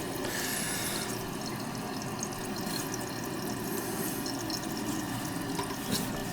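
A toilet tank filling with water, a steady close hiss and rush of flowing water that continues unbroken, with no talking.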